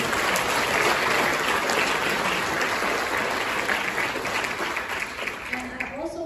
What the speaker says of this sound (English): I'd like for all of you to put your hands together and